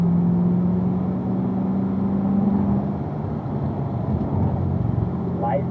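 A car on a race track at a performance driving school heads into a chicane, its engine holding a steady mid-range drone with a brief tonal whine early on, then shifting slightly as it eases through, steady and close.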